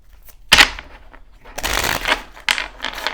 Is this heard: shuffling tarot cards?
yes